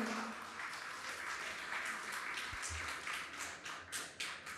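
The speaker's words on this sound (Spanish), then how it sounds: "Un aplauso, por favor, a todos ustedes." Audience at a public deliberation and citizen evaluation meeting claps, a fairly quiet, steady patter of many hands in a large room, with a few distinct claps near the end and a low thump partway through.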